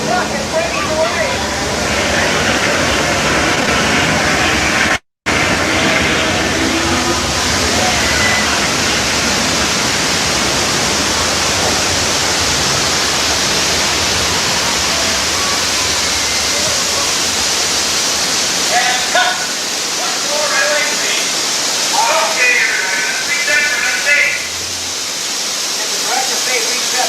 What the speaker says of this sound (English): Look out, it's a flash flood!